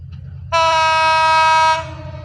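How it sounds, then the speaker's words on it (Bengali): Horn of the Lalmoni Express, a Bangladeshi intercity train hauled by locomotive 3004, sounds one loud sustained blast of just over a second over a low rumble of the passing train. "চলে আসলো লালমনি এক্সপ্রেস।"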